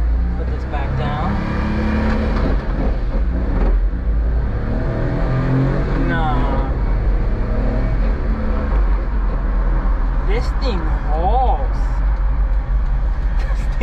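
A Daihatsu Midget one-seater kei car drones loudly and steadily while driving from the cabin, with voices talking over the constant engine noise.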